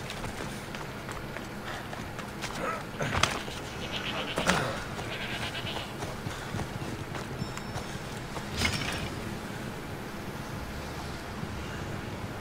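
Goats bleat and hooves clip-clop in Assassin's Creed Odyssey, a few faint bleats over a steady ambient game soundscape with some movement noise.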